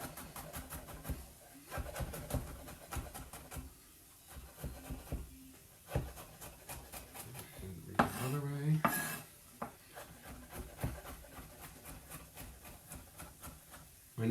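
Rapid knife chopping and mincing vegetables on a cutting board while making a vegetable curry, a steady run of close, crisp taps with occasional clatter of the blade.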